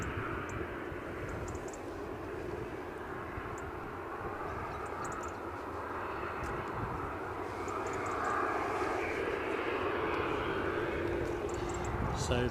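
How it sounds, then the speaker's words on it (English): A Jet2 Boeing 737 at Edinburgh Airport, bound for Tenerife, gives off a steady, broad engine roar that swells slightly toward the end, heard at a moderate distance. "the Jet 2 737 you're looking at is off to Tenerife"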